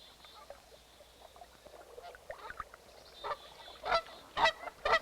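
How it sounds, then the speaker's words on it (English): Canada geese give sharp alarm calls while defending their nest and goslings from circling wolves, several loud honks rising near the end over a quiet outdoor background. "the sharp calls of Canada geese"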